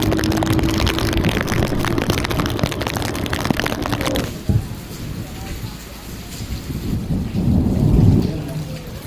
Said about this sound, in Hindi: ये देखो बारिश का पानी।